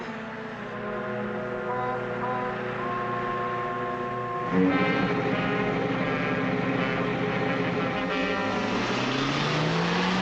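A 1940s car engine idles and then pulls away, the motor hum rising in pitch as it accelerates and shifts, steady and fairly close with no talk over it.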